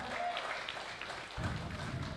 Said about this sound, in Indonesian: Boleh minta tepuk tangannya untuk HUB 77 teman-teman.